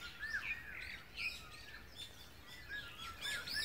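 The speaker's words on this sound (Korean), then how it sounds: "계속 같이 지저귀면서 소리가 점점 커지고 사방에서 들려옵니다" Many birds chirp and whistle together at dawn beside a backpacking bivouac camp, bright overlapping calls coming from all around at moderate distance, steady and continuous without pause.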